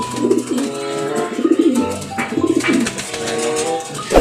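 Soft, throaty racing pigeon coos repeat in a steady, rolling rhythm, close by, with faint chirps and background noise around them.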